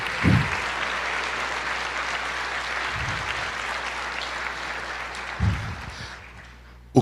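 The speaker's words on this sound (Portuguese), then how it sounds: "aplauda ao Senhor" A church congregation applauds during a Portuguese-language sermon, with sustained dense clapping over a low hum and a few thumps or bumps near the start and toward the end.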